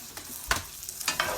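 Quiet sizzling of pecans in butter in a pan with a few sharp scraping stirs, brief bursts of crackle rising over a soft background hiss.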